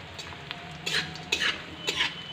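Gond (edible gum) stirred in a hot pan: three or four brief scraping strokes of a spoon against the metal, spaced about half a second apart, over a faint steady background hiss.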